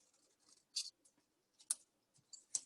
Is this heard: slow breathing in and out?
no